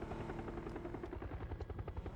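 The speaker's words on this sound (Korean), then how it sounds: "헬기" A helicopter flies through a video game match, its steady rotor chop and engine drone filling the clip at a constant, fairly close level with no voices.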